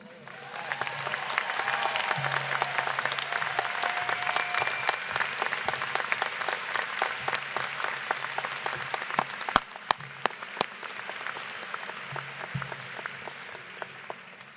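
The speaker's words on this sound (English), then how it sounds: "we can have another round of applause." Sustained applause from a large audience at a law school commencement ceremony, a steady wash of many hands clapping for a long stretch, with a few louder individual claps near the end as it thins.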